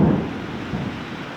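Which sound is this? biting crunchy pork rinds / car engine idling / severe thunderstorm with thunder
severe thunderstorm with thunder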